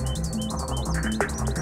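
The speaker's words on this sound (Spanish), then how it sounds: "Disfrutaremos con los cantos de estos ejemplares de fringílidos" Finches such as greenfinches and goldfinches singing: a steady stream of high, rapid chirps and twittering notes with a brief sharper call near the end, fairly close and clear over a low background hum.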